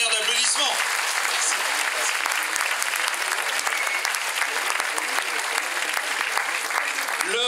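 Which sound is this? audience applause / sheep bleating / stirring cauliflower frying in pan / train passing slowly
audience applause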